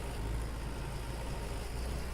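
A tractor engine in Farmer's Dynasty idles in a steady, low, continuous drone, heard alone at moderate level.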